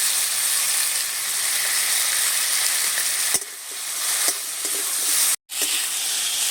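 Potato pieces and ginger-garlic paste frying in a pan for a fish curry, a loud continuous hissing sizzle with occasional stirring scrapes, briefly dipping and cutting out for a moment before resuming, and no voices.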